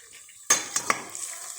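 Mushrooms stirred in a pan, heard as three quick close clinks and scrapes of a utensil against the pan over a faint background sizzle.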